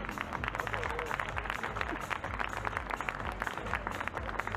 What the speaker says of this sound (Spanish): vamos a despedir a las participantes con un fuerte aplauso